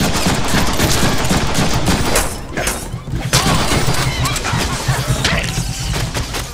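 Rapid, dense gunfire with crashing impacts from the Deadpool video game, loud and nearly continuous across the stretch with a brief lull midway. A voice speaks over the action.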